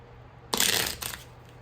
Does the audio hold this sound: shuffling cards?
yes